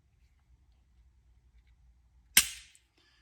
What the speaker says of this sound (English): We can release the slide lock, and the firearm at this time is cocked and ready to fire.